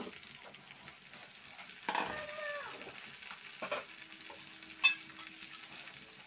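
Pumpkin pieces dropped into a pan of fried onions, a low steady sizzle with scraping and stirring clatters and one sharp clink near the end, close by with no talk.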